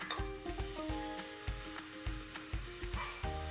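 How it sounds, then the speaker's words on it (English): Butter, brown sugar and maple syrup sizzle in a saucepan, a faint crackle broken by a quick run of rhythmic stirring knocks and scrapes against the pan. "we're gonna melt 1 stick of butter, add the brown sugar"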